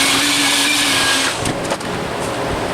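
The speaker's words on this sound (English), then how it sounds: "I'll try and vacuum some of that stuff out." A vacuum cleaner sucks debris out of the engine valley of a 2003 Silverado 1500 with a 4.8L motor, a loud close whine and roar that shifts pitch as the nozzle moves, with a few brief knocks.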